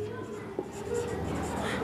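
A sentence is written by hand, probably pen or chalk on a board during an English grammar lesson, giving a short continuous scratchy stroke sound under a voice explaining.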